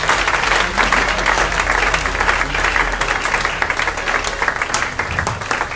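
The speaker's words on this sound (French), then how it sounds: "Je suis à la fin, acclamant pour le Seigneur" A church congregation at a Sunday service applauds and cheers for the Lord, with steady, loud, dense clapping that carries on throughout.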